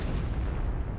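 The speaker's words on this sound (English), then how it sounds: "Was that off map howitzer shoot?" Off-map howitzer artillery strike in the Company of Heroes war game, a dense rumbling blast that fills the whole second, loud and close with no pause.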